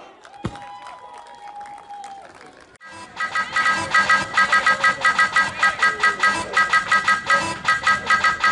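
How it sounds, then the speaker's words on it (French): An audience at an African festival in Morocco for the 2017 Throne Day celebration claps loud and in time after a short held vocal tone, the rhythmic beats pulsing evenly alongside bright tonal sounds. "faire un tonnerre d'applaudissements pour la communauté bissau-guinéenne"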